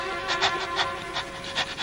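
A dog panting close by, quick rhythmic breaths in a steady series of about eight puffs, moderately loud against a quiet background.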